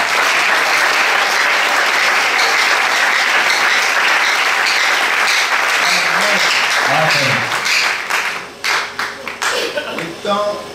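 A church congregation at a disciples' school session bursts into loud, sustained applause that fills the room, then the clapping thins into scattered claps near the end.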